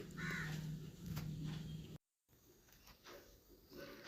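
A crow caws from a tree beside a house, a few harsh calls over faint outdoor ambience, briefly broken by a dropout before quieter background sound resumes.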